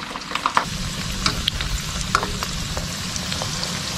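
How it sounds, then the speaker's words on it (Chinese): Food deep-fries in freshly heated oil, a dense steady sizzle and crackle with scattered sharp pops, close and continuous with no talk. "油炸的奇迹。"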